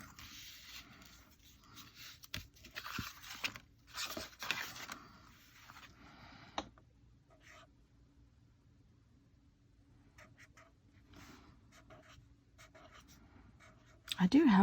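Handwriting with a pen on paper, quiet scratchy strokes in short bursts during the first several seconds, then mostly near-silence with a few faint later strokes and a brief voice at the end.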